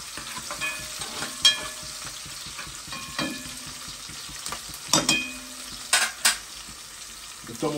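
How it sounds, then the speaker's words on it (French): Onion sizzling in a pan for a Réunion-style rougail, a low steady fry punctuated by several sharp stirring scrapes and clinks of the utensil against the pan, fairly close with no talk. "Et sur mon oignon, il cuit là"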